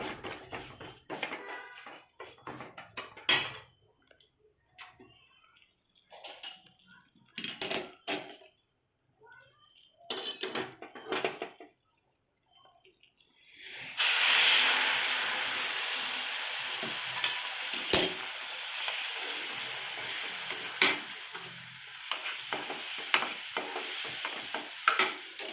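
Hot milk hits a pan of roasted semolina for sweet sheera, bursting into a loud, steady hiss with scraping stirs on top, after a stretch of quieter, intermittent stirring and tapping.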